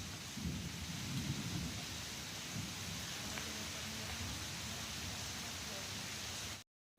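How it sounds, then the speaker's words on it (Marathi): Rain pours steadily in a monsoon downpour, a dense broadband wash with a low rumble of thunder rolling beneath it early on, continuous until it cuts off abruptly at the end. "आत्ता थोडा पाऊस कमी होत होता आणि विजाचा कडकडाट पण कमी झालेला होता"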